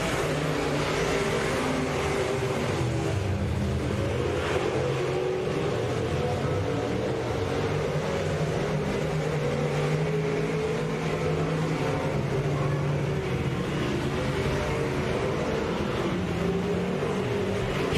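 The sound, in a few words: stock cars racing at Boothill Speedway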